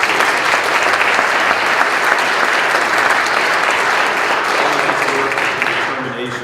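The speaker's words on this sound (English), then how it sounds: "let's give another round of applause for Rudd" Audience at a panel event applauding a speaker, a dense, loud, sustained clatter of many hands that tapers slightly toward the end, with a voice faintly audible beneath.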